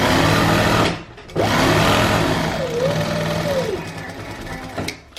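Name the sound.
sewing machine stitching kameez sleeve seam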